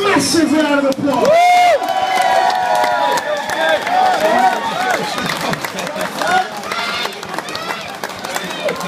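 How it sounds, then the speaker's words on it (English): Fight-night crowd cheering and applauding after a bout, a loud, dense roar with whoops and shouts, under a ring announcer's amplified voice, gradually easing. "Let's give both these guys a massive round of applause."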